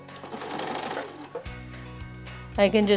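A sewing machine stitches half-square triangles of dark and light fabric along a marked seam line, with short bursts of rapid whirring and clatter and a voice talking around them.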